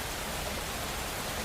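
Steady soft rain like mist falling in a dark night-time London street, heard as an even, continuous broadband hiss with no distinct drops, alone and without voices.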